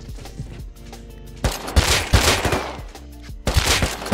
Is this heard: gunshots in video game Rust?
yes